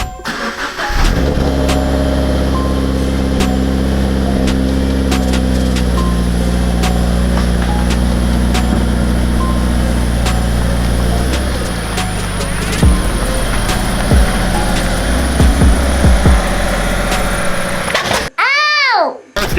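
A Scion FR-S with a cut frame rail starts off and drives away, its engine droning steadily and loud up close, changing pitch as it accelerates, with a brief sweeping tone near the end.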